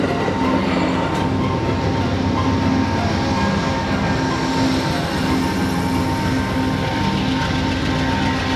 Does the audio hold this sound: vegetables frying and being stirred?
no